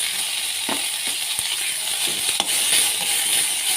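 Food frying and roasting in a pan, with eggplant among the ingredients, gives a steady broadband sizzle and a few soft scraping stirs close by, with no talk.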